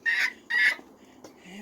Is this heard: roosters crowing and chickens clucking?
yes